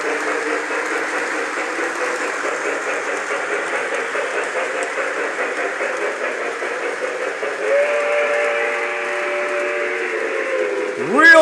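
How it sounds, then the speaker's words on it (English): A model steam locomotive on a layout, pulling ten Pacemaker cars and a caboose, sounds a steady sustained whistle under continuous running noise, with a brief louder blast at the very end. "Real good sounding whistle."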